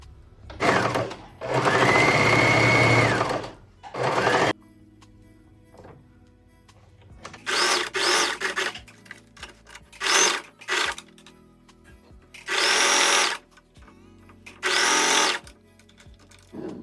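A sewing machine stitching a border onto a sleeve runs in several loud, close bursts of whirring, broken by quiet pauses with small handling clicks.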